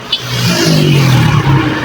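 A car engine revs loudly and close by in a traffic jam, a steady, rising mid-pitched roar that holds throughout with no voices over it.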